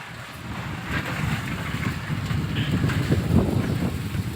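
Strong wind blows under dark storm clouds with dust flying, a continuous loud gusty roar and rumble buffeting close to the microphone.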